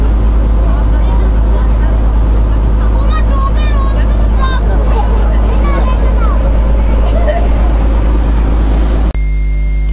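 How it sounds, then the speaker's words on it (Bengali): A fishing boat returning from a catch in the Sundarbans fills the scene with a steady, loud engine drone and water wash, while voices and bird calls come through faintly over it. "এখানে এই বোটটা এখন ফিরছে মাছ ধরে, বাকি বোটগুলো এসে গেছে।"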